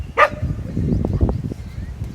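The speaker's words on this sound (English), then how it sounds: "And you just heard the dog" A dog barks once nearby at a yoga retreat, a single sharp bark followed by low indoor rumbling and soft movement.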